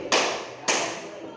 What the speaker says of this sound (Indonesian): Anda tepuk 2 kali.